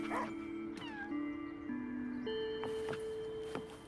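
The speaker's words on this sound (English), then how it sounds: "No, that one meows." A cat meowing in the video game Wuthering Waves, several drawn-out meows in succession with a faint ticking underneath, clear and close with no talking.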